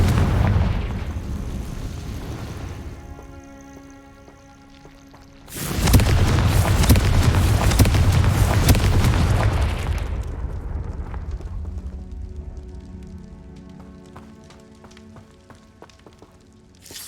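Spell explosions burst in the video game Hogwarts Legacy: booming blasts with rumbling roars, one large burst midway followed by crackling debris and a fading tonal hum, loud and without speech.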